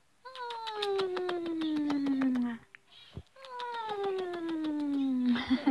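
House cat giving two long drawn-out meows with a falling pitch, close and clear, separated by a short pause with a faint thump.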